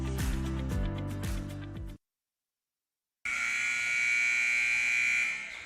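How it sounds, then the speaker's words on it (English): A long, loud electronic buzzer sounds at a high school volleyball match in a gym, a steady harsh tone of about two seconds following a brief silence, with crowd noise underneath. "you hear the buzzer"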